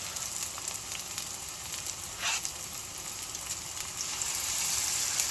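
Food fries in butter in a frying pan, a soft continuous sizzle with faint crackles and one brief louder pop, growing slightly fuller toward the end.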